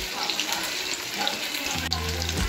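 Paneer pieces double frying in hot oil give a steady, close, hissing sizzle throughout, with a brief clatter near the end followed by a low hum.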